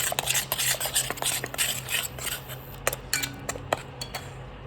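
Masala with turmeric and salt roasting in oil for paneer tikka masala, stirred briskly with a metal spoon that scrapes and clinks against the pan in quick repeated strokes over a faint sizzle.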